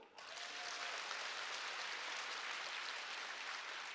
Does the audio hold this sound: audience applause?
yes